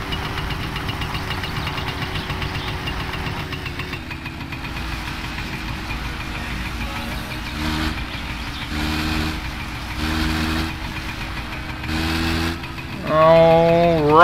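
A small engine runs steadily at idle throughout, a low chugging drone with rhythmic pulsing surges toward the end, then a rising whine as it revs briefly; no talking over it.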